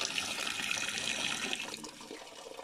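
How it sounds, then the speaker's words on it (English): Tap water runs steadily from a newly installed outdoor supply on rural permaculture land, a continuous close hiss and splash that eases slightly near the end, with no talking. "now we have running water luxury here"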